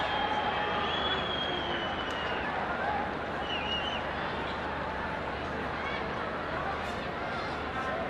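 A crowd at a women's international football match between Nepal and Myanmar makes a steady, distant roar of murmuring, cheering and scattered clapping that runs throughout at a moderate level.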